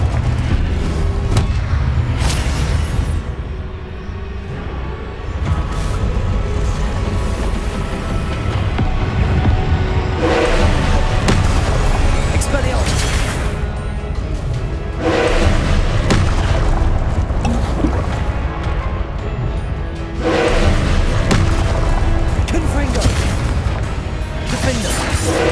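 Repeated Confringo blasting-spell explosions boom through a Hogwarts Legacy keeper trial battle, loud heavy blasts recurring every few seconds over continuous rumbling combat noise.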